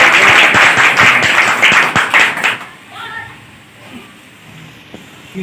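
Loud, dense applause from a crowd at a Maharishi Kashyap birth anniversary event for about two and a half seconds, then it fades out into quiet murmurs and a voice.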